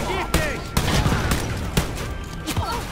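Gunfire in Wolfenstein Youngblood, several sharp loud shots spaced irregularly over a busy game backdrop with a voice briefly speaking.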